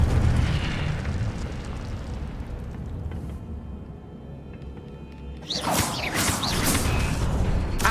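Incendio fire spell in Hogwarts Legacy, a loud roaring whoosh of flame and rumbling booms, fading briefly before a bright crackling burst flares up again near the end.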